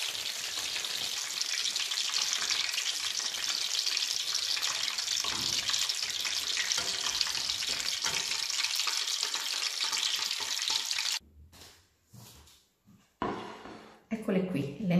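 Stuffed eggplants fry in a pan of oil with a loud, continuous bubbling sizzle for most of the stretch before it cuts off into quieter clatter near the end.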